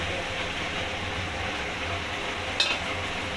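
Chicken curry in a pan fizzes steadily under a constant frying hiss after water is added, with one brief scrape of a spoon stirring near the end and no voices.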